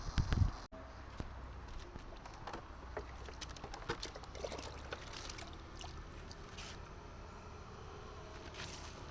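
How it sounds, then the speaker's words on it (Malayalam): Water poured over a tent for a waterproof test: a sharp knock at the start, then soft, scattered patters and trickles of water striking the tent fabric, fairly close and quiet. "മൂടി സെറ്റാക്കി നമുക്ക് വെള്ളം ഒഴിക്കാം"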